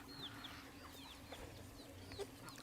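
Chickens cluck softly among farm ambience near someone chasing them off from pecking at watermelons, a few short quiet calls scattered over steady low background noise.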